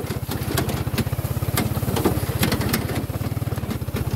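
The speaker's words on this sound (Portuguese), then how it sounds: "Nossa motoquinha velha, gente, ela é velhinha, mas a bichinha é guerreira igual nós, hein?" An old small motorcycle putters along on a ride to a rural plot, its single-cylinder engine thumping in a steady, loud, close rhythm with no talk over it.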